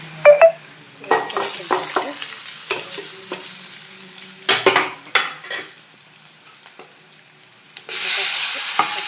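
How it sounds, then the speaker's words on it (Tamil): Mustard seeds, onion and garlic sizzling in a hot kadai for a broad bean stir-fry: spatula stirs scrape and clatter in uneven bursts over a crackling fry, then a loud, steady hiss swells near the end. "கடுகு பொரிஞ்சதும் வெங்காயமும் பூண்டையும் சேர்த்துட்டு இதை நல்லா வதக்கிடலாம்"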